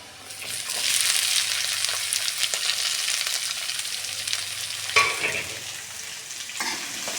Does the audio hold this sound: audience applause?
no